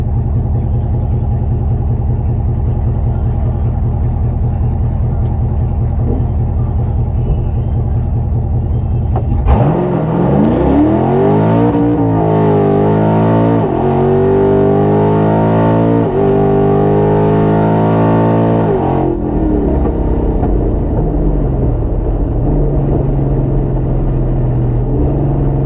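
A 600whp Camaro ZL1 launches down a drag strip, its loud engine idling low before roaring through a hard, rising acceleration with several clear gear shifts, then easing off near the end.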